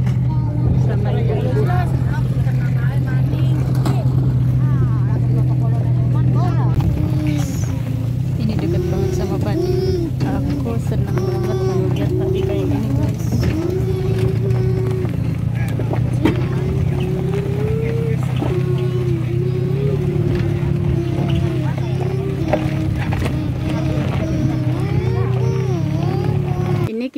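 Steady low engine drone and road rumble inside a car driving past rice fields near Cibenoang, Indramayu, running throughout with lively voices of adults and children chatting over it.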